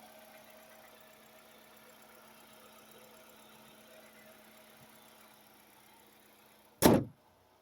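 A 2008 Chevy Cobalt on its third engine, with a past fuel-line leak, idles at a cold start: a faint, steady mechanical hum that ends in one sudden loud burst.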